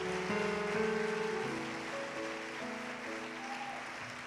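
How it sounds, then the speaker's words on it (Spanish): A church congregation applauds during a sermon, a soft rain-like patter of clapping with sustained keyboard chords playing underneath, fairly distant. "Dale un aplauso a Dios."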